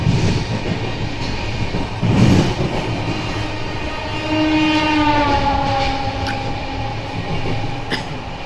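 A moving train heard from inside the last coach as it passes Uttarpara station near Malda, with a loud, continuous rumble of wheels on rails, faint clatter, and a long horn blast sounding from ahead partway through.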